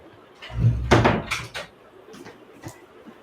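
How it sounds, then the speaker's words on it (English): A room door pushed shut close by at home, a short burst of rattling and thudding movement ending in a firm closing knock, followed by a few faint bumps, with no talking. "Let me just shut the door."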